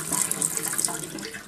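Water with fermented tomato seeds is poured out of a container, a brief bright splashing and trickling close by, with no talking.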